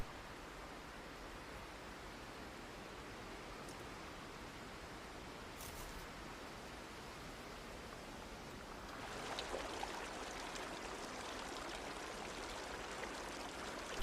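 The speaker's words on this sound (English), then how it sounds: "A gentle waterfall en route looks like an oasis." A gentle waterfall on a steep slope in penguin habitat gives a steady, soft broadband rush of falling water that thickens slightly partway through, with no voices.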